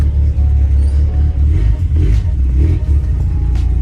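A 1987 truck engine fitted with a 22RE two-step rumbles loudly and close while warming up, with a steady low drone and uneven surges as it revs, and no voices.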